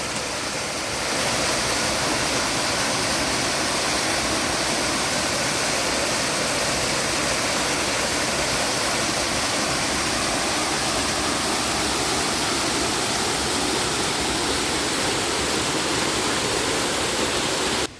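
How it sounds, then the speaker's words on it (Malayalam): Steady, dense roar of rushing water from a waterfall, continuous and fairly loud throughout with no voices. "നമ്മുടെ സ്ഥലത്തുകൂടി തന്നെ ഒഴുകുന്ന മൂന്നാമത്തെ വെള്ളച്ചാട്ടം ഇതാണ്"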